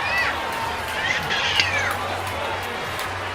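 A crowd ambience effect plays during a tabletop fantasy game session, a continuous murmur of many voices with scattered higher cries, fairly loud and steady.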